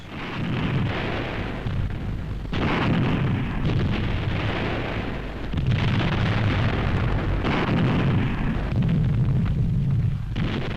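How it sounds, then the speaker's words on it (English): Self-propelled guns of the 1st Canadian Army fire an opening barrage for the Hochwald Forest offensive in a wartime newsreel. Loud, continuous rumbling blasts swell and break at intervals of a few seconds, with no voices. "Self-propelled guns of the 1st Canadian Army open the offensive for the Hochwald Forest."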